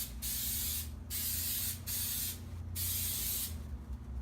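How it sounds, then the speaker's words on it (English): Three hissing bursts of olive oil from a spray can, each about a second long, close up, with brief pauses between them. "Always want to spray olive oil."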